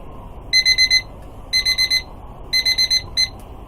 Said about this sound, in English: That's a pretty loud alarm too